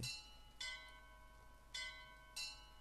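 Bells ring in the BioShock Infinite video game, three or four separate ringing strikes spread over a few seconds, each decaying into a sustained metallic hum. They are fairly quiet, with no talking over them.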